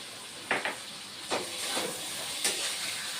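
Poppy seed paste frying in a pan for jhinge aloo posto gives a steady soft sizzle and hiss, broken by a few louder bursts of spatter spaced about a second apart.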